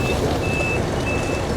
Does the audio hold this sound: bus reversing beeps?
yes